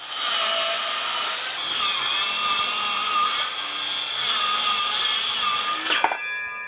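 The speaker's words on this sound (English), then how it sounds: "I'm going to rip this down, and I'm going to be doing that with our skill saw." A circular skill saw fitted with a guide rips a board lengthwise, a loud steady high-pitched whine running for several seconds before the blade spins down at the end.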